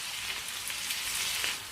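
Tomatoes frying in hot oil in a pan, a soft steady sizzle with fine crackling, quiet and brief.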